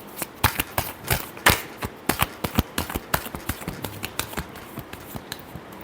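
Tarot cards are shuffled by hand in a rapid series of crisp, close riffling snaps and taps, irregular bursts that thin out toward the end, with no talk.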